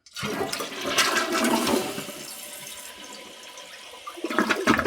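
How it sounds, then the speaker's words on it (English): A toilet flushes weakly after its flapper is replaced, giving a short, splashy rush of water that fades into quieter trickling and refilling before a brief final gurgle. "If it flushes, let's go ahead and flush it."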